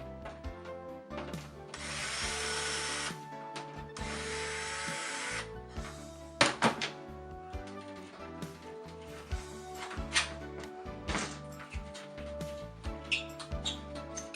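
Screws being worked out of a surface-mount 4-foot fluorescent light fixture: two bursts of drill whir near the start, followed by scattered close clicks, taps and scrapes of metal parts, fairly quiet with no talk.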